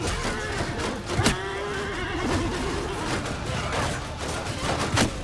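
A horse whinnies in the Mount & Blade II Bannerlord battle, rising sharply over a dense wash of combat noise with scattered impacts and faint hoofbeats, fairly close and loud.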